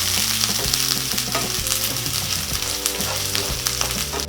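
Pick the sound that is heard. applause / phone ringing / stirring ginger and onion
stirring ginger and onion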